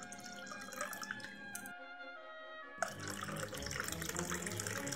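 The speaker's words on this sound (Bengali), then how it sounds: "কন্টেনার ধুয়ে জলটা ঢেলে দিচ্ছি।" Water runs from a tap and splashes as a container is rinsed, then is poured into a glass of mint paste for jaljeera; steady close trickling broken by a short pause and a clink.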